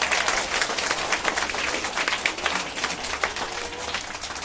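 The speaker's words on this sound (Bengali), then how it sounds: "জোরে হাততালি একবার" A group of children claps loudly and continuously in a dense, rapid burst of hand claps that fills the whole stretch, with faint voices mixed in.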